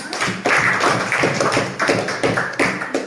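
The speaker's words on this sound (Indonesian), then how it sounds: "kita berikan aplaus untuk Emma." A classroom group claps in applause for a student during a chemistry lesson, a dense, steady patter of many hands close by that surges in waves for about three seconds.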